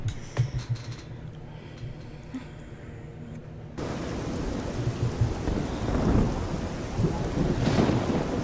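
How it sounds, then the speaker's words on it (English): Rain and rolling thunder in the video game Oblivion, a soft patter that swells into a dense, loud downpour with deep rumbles underneath, no talking. "Okay, and it's raining."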